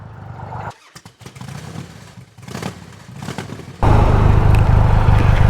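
A Triumph Rocket 3 motorcycle is ridden with its clutchless speed shifter, giving an uneven engine note that dips and surges through several upshifts before it settles into a loud, steady roar near the end.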